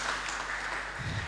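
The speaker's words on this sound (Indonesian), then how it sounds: "Kita beri tepuk tangan." An audience at a university jersey launch event in Indonesia claps for USM students, a soft, continuous patter of applause from a crowd, fairly distant and low in level.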